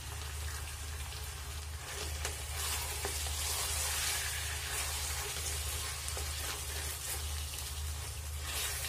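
Tomatoes and chopped dried red chillies sizzling in a hot pan for a chicken stew, a loud, dense, steady crackle and hiss like rain that carries on unbroken, close and alone.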